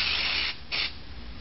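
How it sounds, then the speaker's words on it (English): Aerosol cocaine test spray sprayed onto a surface in two short hissing bursts, the first longer than the second, close and moderately loud with no talking. "Taking the lid off, shaking the canister, spraying the surface"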